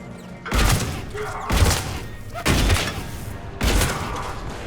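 Katana shotgun blasts in Mass Effect 3, four loud, booming shots spaced about a second apart, each with a long rumbling tail.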